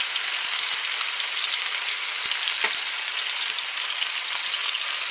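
Boneless pork chops fry with sprigs of thyme in a hot pan, giving a steady, loud, dense sizzle with occasional small pops and spits throughout.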